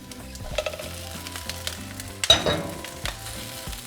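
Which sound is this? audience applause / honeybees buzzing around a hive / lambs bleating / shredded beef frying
shredded beef frying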